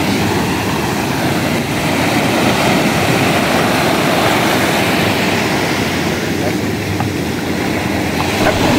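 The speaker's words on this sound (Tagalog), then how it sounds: "nakalusot na tayo sa alon" A fishing boat pushes through sea waves, its engine and the rushing water forming a loud, continuous broadband roar that fills the whole stretch close to the microphone.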